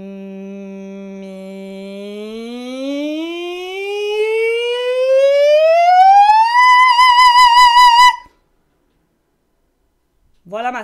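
A single voice imitates a siren as a singing exercise, gliding smoothly upward from a low sustained note to a high wavering tone, then cutting off into silence before a brief vocal sound at the end.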